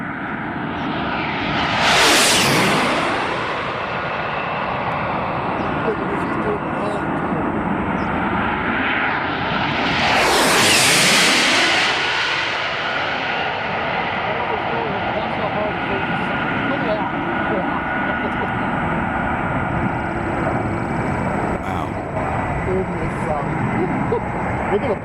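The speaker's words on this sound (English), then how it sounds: "the distinctive sound that these twin engines have on these planes" A twin-engine jet aircraft roars past twice, its engine noise swelling and then dropping away in pitch with each fly-by, with a constant loud rumble in between.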